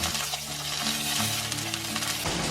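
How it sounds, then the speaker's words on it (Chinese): Chopped aromatics sizzle and crackle in hot cooking oil in a heated clay pot, a steady close frying hiss with light stirring scrapes throughout, no voices. "砂锅烧热，我们倒一点食用油，我们先把这些料头放上去，"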